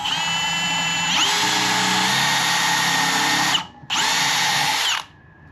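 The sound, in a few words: power drill boring a pocket hole with a Kreg 320 jig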